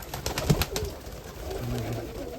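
Soft pigeon cooing, a few low murmuring calls against a steady background hum, fairly faint and somewhat distant.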